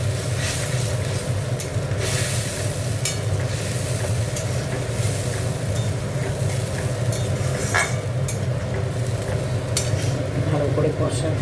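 Coriander, chilli and turmeric spice paste stir-fries for a Bengali fish curry. A steady dense sizzle runs throughout, with occasional scraping and clinking of the spatula against the pan, recorded close.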